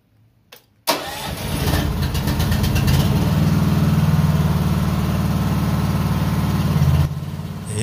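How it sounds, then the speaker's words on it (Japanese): A snowblower engine pressed into service as a backup generator cranks and catches after a short silence, then settles into a steady, loud, close idle that runs on alone before easing slightly near the end. "今除雪機のね、エンジンの回転数はアイドリング状態で使ってるんですけれども"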